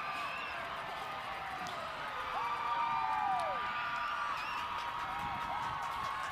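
Spectators at a BYU women's rugby game cheer and applaud following a try. The crowd noise swells in the middle, with sharp whistles and claps over a distant, steady roar.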